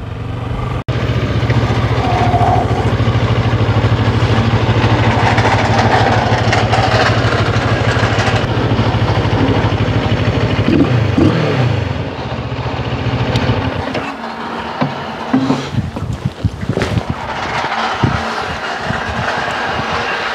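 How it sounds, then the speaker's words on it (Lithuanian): A CFMOTO 650 MT motorcycle engine runs close by with a steady low drone that cuts off partway through, leaving quieter handling noises and scattered knocks afterward. "Toks motocikliuks, va."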